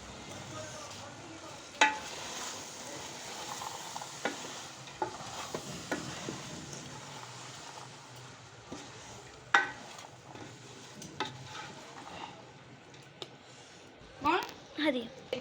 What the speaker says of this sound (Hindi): अब मैं डालूँगी इसमें ये फलियाँ, गुवारे की फलियाँ अब डाल देंगे।